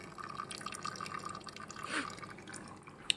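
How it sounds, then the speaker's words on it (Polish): Melted beeswax drips and trickles from the tap of a steam wax melter, a faint, thin patter of drops over a soft steady hiss of steam. "Tutaj ten wosk ścieka. Tutaj macie, o, leci z kranika."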